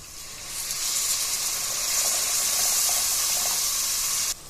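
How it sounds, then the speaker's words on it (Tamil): Tamarind water is poured steadily into a fenugreek masala curry (vendhaya kuzhambu), making a continuous hissing splash for about four seconds that cuts off abruptly. "நான் ஒரு சின்ன லெமன் சைஸ் புளியை தண்ணியில் கரைச்சி வச்சுருக்கேங்க. அதையும் இது கூட சேர்த்துக்கலாம்."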